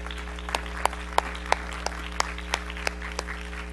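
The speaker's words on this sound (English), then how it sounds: "Can we just give him a hand clap for all that he's done?" An audience at a youth revival church service claps in a steady rhythm, evenly spaced sharp hand claps over a constant low hum, with no talking.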